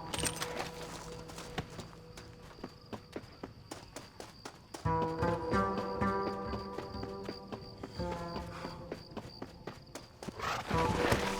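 Horse hooves clip-clop in Red Dead Redemption, a steady run of close, crisp hoof hits. Music-like tonal layers sound under them and grow denser partway through.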